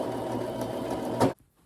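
A sewing machine runs steadily while hemming fabric for garment straps, a continuous close mechanical whir that ends abruptly into near silence.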